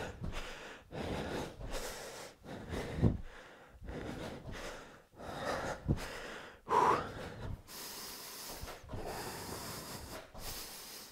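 Long, steady breaths are drawn in and pushed out in a repeating rhythm during a lower-body fitness yoga workout, close and audible, with short gasps and huffs between effortful strokes.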